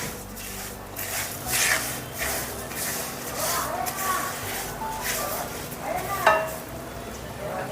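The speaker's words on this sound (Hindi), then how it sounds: "1 मिनट तक लो फ्लेम पर ही हमें इन्हें इसी सूजी में भूनते जाना है" Dry fruits roasted and stirred in semolina over a low flame for suji halwa, with soft scraping strokes of a spoon in the pan and a faint sizzle, repeated rhythmically up close.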